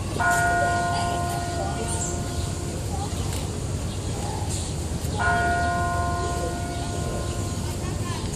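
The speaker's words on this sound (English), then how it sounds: "staying there to hear the toll of the bell" A church bell tolls twice, each strike ringing out loud and slowly fading over a steady outdoor hum.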